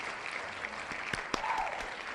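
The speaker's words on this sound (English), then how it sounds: "Great clap noise, that." A short clap sound effect in a League of Levels game, Legends gameplay, a few faint crisp claps at a distance over quiet background noise.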